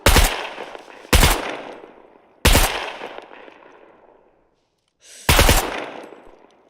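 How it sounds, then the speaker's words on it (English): Four loud single rifle shots ring out in the survival game SCUM, each a sharp crack with a long decaying tail, spaced unevenly with a short silent gap before the last. "Like, I'm firing my rifle"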